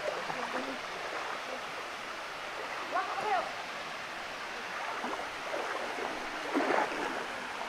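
Water flowing at Tinakayanan Falls in Sitio Kadamapat, a steady soft rush of stream water throughout, with a few faint voices and rustles over it.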